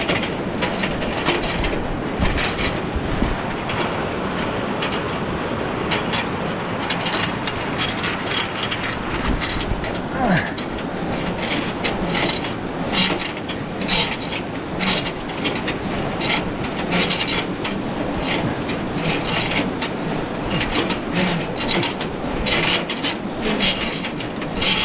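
A long tram rolls past on the historic Goat River Trail in the Canadian wilderness, its steady clickety-clack and rumbling wagons continuous and fairly loud close by for the whole stretch.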